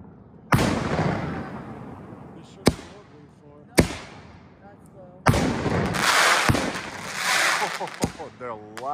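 HITTERS firework tubes from H.C.M.F. go off in sharp, loud booming reports, several spaced blasts followed by a denser burst of crackling, with voices in between.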